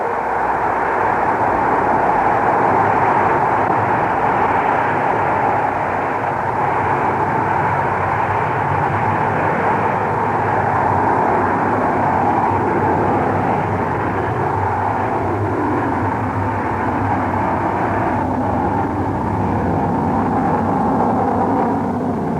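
A rocket liftoff made as a radio drama sound effect: a loud, sustained, even engine roar that rumbles without a break throughout, with no voices.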